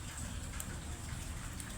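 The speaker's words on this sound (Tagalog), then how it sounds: "lakas na ulan, maraming tulo." Sudden heavy rain pours down steadily with dense dripping water, a close, continuous wash of drops hitting surfaces with no voices present.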